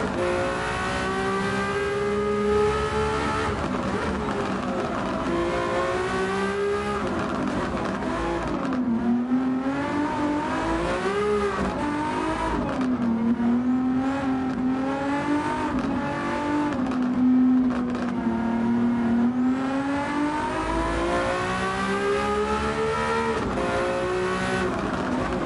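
Ferrari race cars in a Gran Turismo 7 one-make challenge roar continuously, engines rising and falling through gear shifts as they accelerate and brake, loud and steady for the whole stretch.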